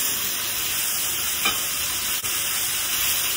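Chayote and carrots stir-fry for pansit bihon in a hot pan, a continuous bright sizzle with a light scrape of the spatula midway and a brief clack soon after, no voices over it.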